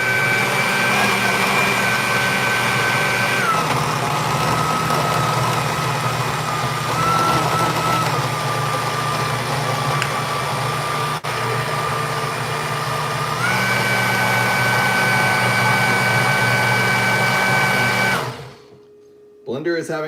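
A blender whirs at full blast, mixing a peanut butter smoothie, with a loud, steady motor roar that shifts pitch a few times and lasts about eighteen seconds before cutting off abruptly.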